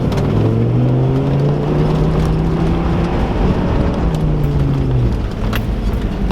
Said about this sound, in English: we're going to go ahead and do a 4-wheel drive launch again, up to about 20 miles an hour